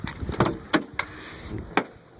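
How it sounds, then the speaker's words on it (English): Several vehicle doors are opened on an older car, giving sharp mechanical clunks and latch clicks spaced irregularly, close by and fairly loud with no talking. "doors open up."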